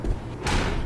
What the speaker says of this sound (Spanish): La puerta.